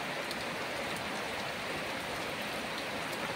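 Heavy rain pours steadily with a dense, even hiss, no wind or thunder, and no voices.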